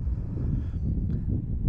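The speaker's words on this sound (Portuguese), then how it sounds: "está muito vento" Strong wind buffets the microphone during a Saharan sand storm, a steady low roaring rumble that holds loud and unbroken throughout, with no voices.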